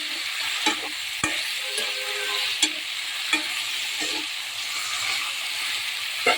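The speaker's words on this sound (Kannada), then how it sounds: "ಬಾಳೆಕಾಯಿ ಹಾಕಿ ಚೆನ್ನಾಗಿ ಸ್ವಲ್ಪ ಬಾಡಿಸ್ಕೊಳ್ಳಿ." Raw banana pieces sautéing in a pan for banana sambar, a steady sizzle with scraping stirring strokes and occasional clinks of the spoon, no voices.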